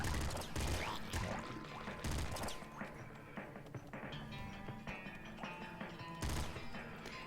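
Trap explosions in a video game go off in a rapid series of loud, punchy bursts, the heaviest near the start and again near the end, with denser clattering impacts between them.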